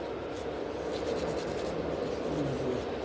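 A nail file rasps steadily across a gel overlay nail in a salon, a close, continuous gritty scratching with slight back-and-forth pulsing and no speech.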